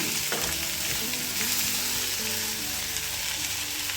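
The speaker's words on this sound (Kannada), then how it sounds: "ಸ್ವಲ್ಪ ಫ್ರೈ ಮಾಡ್ಕೊಳ್ಳೋಣ" Ivy gourd pieces frying in a pan for a home-style palya, giving a steady, close sizzle that holds at an even level throughout with no talking.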